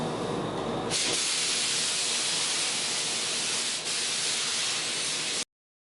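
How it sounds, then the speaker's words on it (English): Spray gun laying sealer onto a car wheel with a narrowed fan, a steady loud hiss that starts abruptly, runs unbroken for several seconds, then cuts off suddenly into silence. "I'm going to lay some sealer down now."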